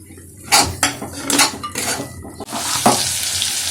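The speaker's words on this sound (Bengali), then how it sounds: "এর মধ্যে আমি মিশিয়ে দিচ্ছি 2 চা চামচ লবণ।" Salt goes into spices frying for a spicy chicken curry, with a spoon scraping and clanking against the pan in loud, close strokes over a continuous sizzle that swells into a steady hiss near the end.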